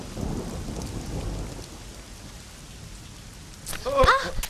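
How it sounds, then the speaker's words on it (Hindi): A rainstorm hisses steadily in a movie scene, with a faint low rumble of thunder early on. A brief sharper burst comes near the end. "अगर बारिश से भीग जाते तो हालत ही खस्ता हो जाती।"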